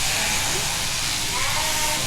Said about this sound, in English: So that is the tups and 2 ewes with bad feet sheared, and Bruno, the pet tup.